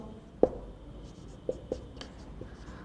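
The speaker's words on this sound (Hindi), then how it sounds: "लिख मैं देता हूं" Chalk or pen writing on a board during a physics lesson on temperature scales, heard as a few sparse taps and short scratchy strokes, fairly faint, with no talk.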